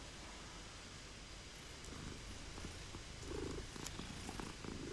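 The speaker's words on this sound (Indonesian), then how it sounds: "Ada kucing." A cat in the video game Hogwarts Legacy purrs steadily and softly under a constant hiss of background noise, with no talking.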